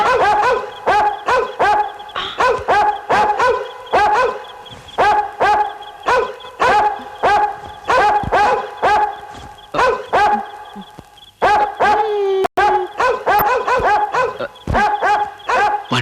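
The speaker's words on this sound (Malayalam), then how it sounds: "പട്ടികൾ പുതിയതാ, നമ്മളോട് തന്നെ ശരിക്കും ഫ്രണ്ട്ഷിപ്പ് ആയിട്ടില്ല." Dogs barking repeatedly in a fast, regular run of loud, close barks that goes on for about sixteen seconds, with a short pause near the end, and no talk over them.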